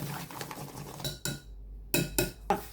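Cake batter stirred by hand after oil goes in, for a cream cheese birthday cake: a few sharp clinks and scrapes of a utensil against a bowl, close and fairly quiet, with short pauses between strokes.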